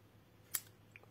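A single quick snip of scissors trimming excess material from a homemade Halloween decoration, sharp and brief against a quiet room hum, followed by a faint softer tick.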